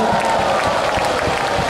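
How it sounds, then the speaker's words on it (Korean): Applause from a concert audience at a New Year's concert in Goheung, a dense steady patter of many hands with some crowd noise, continuous and fairly loud throughout. "여러분 박수로 좀 많이 해주시면 좋겠습니다."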